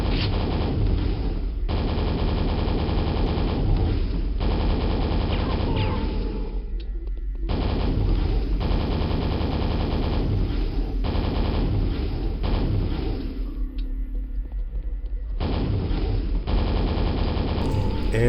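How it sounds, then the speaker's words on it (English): A super nail gun fires in rapid bursts in Quake, dense mechanical rattling volleys that start and stop several times, mixed with game music and combat noise. "We get the super nail gun."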